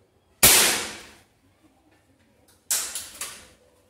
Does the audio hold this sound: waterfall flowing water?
no